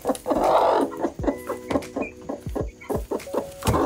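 A broody hen clucks in short, repeated bursts close to the microphone, a steady run of sharp clucks with a few low grumbling notes between them and no talk.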